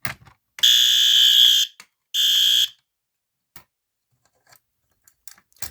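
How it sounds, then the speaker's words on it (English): A System Sensor horn strobe fire alarm blasts two loud, harsh horn bursts during a system test, the first about a second long and the second shorter, separated by silence, with faint clicks afterward. "that special or advanced horn strobe generally is loud"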